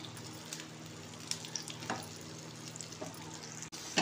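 Okra shallow frying in a pan, giving a steady, soft, close sizzle and crackle with small scattered pops and a faint low hum beneath it, with no talking.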